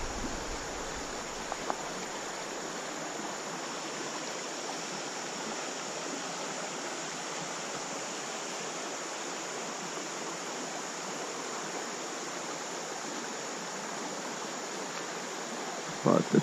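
Steady broadband rush of river water flowing through a slower hole on the Gunpowder River, continuous and even for the whole stretch, with a brief knock near the end.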